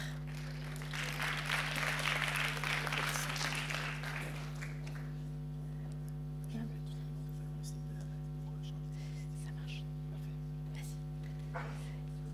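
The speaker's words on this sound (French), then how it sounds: "on peut les applaudir" Audience at an awards ceremony applauding nominees on stage, a brief swell of clapping in the first few seconds that quickly thins out over a steady electrical hum, with faint voices afterward.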